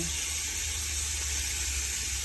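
Chicken pieces frying in an uncovered pan, Jamaican style, give a steady, dense sizzle and hiss that runs unbroken and fairly loud throughout, with no talking.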